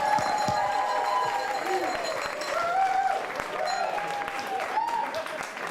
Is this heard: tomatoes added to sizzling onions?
no